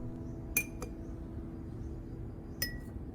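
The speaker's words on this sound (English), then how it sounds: "I add all 3 tablespoons directly into the jar with the shallots" A metal tablespoon clinks twice against a glass jar holding shallots as coffee grounds are added, two bright short taps about two seconds apart in a quiet room.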